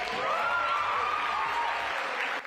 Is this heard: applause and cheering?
yes